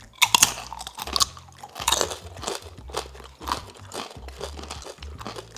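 Crisp crunching and chewing of air fryer pasta chips served with sauce, a few loud close bites followed by steady munching, with no talking.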